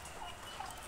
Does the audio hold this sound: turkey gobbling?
yes